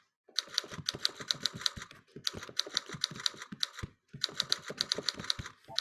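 Rapid clicking on a computer keyboard during a typing game in a kids' online coding class, coming in three steady bursts of fast keystrokes separated by short pauses, fairly quiet and without speech.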